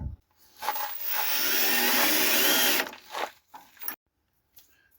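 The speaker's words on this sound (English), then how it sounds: "drill a pilot hole with something smaller" A power drill bores a pilot hole into wood in one sustained, whining burst lasting a couple of seconds, followed by short scraping bits and a pause.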